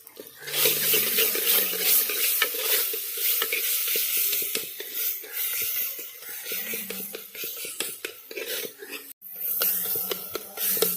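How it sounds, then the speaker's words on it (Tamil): Tomato, ginger and garlic sautéed in oil for a mutton curry, a steady crackling sizzle with stirring scrapes running the whole time, close and fairly loud, briefly cut off near the end. "தக்காளி போட்ட உடனே இஞ்சி பூண்டு இதெல்லாம் போட்டு எண்ணெயில் வதக்கணும்"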